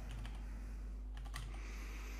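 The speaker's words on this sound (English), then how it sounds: "hitting Control Shift P or Command Shift P and typing CodeSnap" Typing on a computer keyboard while entering a command in the VS Code editor: a quiet run of soft, irregular key clicks over a low steady hum, with no talking.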